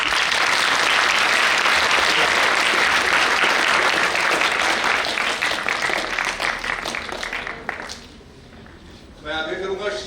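Audience applause at a live stage show in India, loud sustained clapping from a large crowd that fades near the end before a voice begins speaking.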